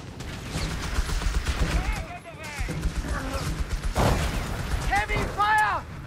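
Dense battlefield gunfire in the World War II strategy game Company of Heroes 3, North Africa at El Alamein, with steady rattling volleys and crashes throughout and shouted unit voices cutting in over the din.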